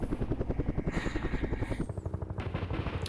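Helicopter in the Vietnam-era wargame Campaign Series: Vietnam, a steady rapid rotor chop throbbing through the whole stretch with a continuous engine whine, fairly loud and alone without talk.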